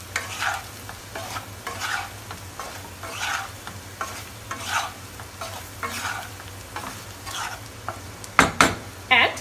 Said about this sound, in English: Let them fry.